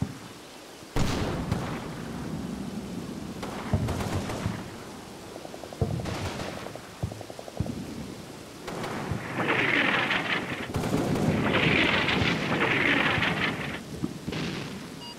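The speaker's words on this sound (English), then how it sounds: "Try to call in some mortars to suppress them." Mortar barrage in the Combat Mission: Battle for Normandy war game, with repeated heavy booming impacts and rumbling blasts, some near and loud, others distant, overlapping into a continuous roar with bursts of crackling debris.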